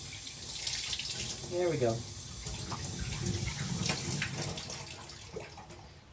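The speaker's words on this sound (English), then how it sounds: "Cold water is fine. Just rinsing that out." Cold tap water runs steadily into a sink while parts of a Bissell 3624 Spot Clean Professional portable carpet cleaner, including its small siphon piece, are rinsed out, a continuous close splashing with a person speaking briefly over it.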